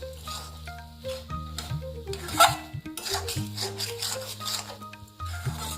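Vegetables and spices for a cauliflower paratha filling are stirred slowly in a pan, with a spatula rubbing and scraping steadily under prominent background music.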